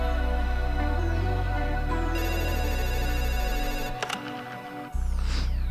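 A telephone rings in an album interlude, loud repeated electronic rings over a low musical bed, cutting off briefly near the end before resuming.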